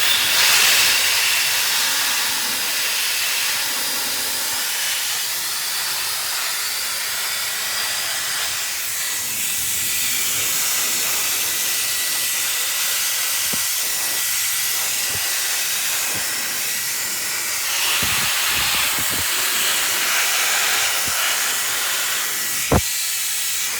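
Air blower cleaning the fan of a laptop during a repair, a steady loud hiss of blowing air throughout, with a brief sharp click near the end.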